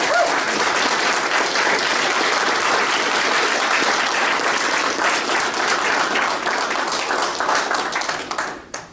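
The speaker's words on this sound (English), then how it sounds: "So let's give them a round of applause." Sustained, dense applause fills the hall at a graduation ceremony as the crowd claps steadily for the graduating class, fading out at the very end.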